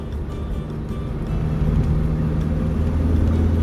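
Lancia Fulvia engine under load while driving, a low steady drone with a faint rise in loudness partway through, continuous and close, with no talking over it.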